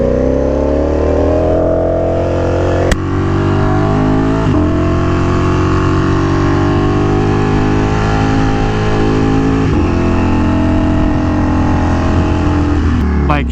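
Ducati Panigale V4R motorcycle underway, engine a loud, close, continuous drone with pitch climbing under acceleration and brief breaks at gear shifts, with wind rumble throughout.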